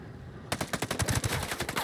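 Rapid automatic gunfire from a video game gun, a fast run of loud close shots after a quiet half second.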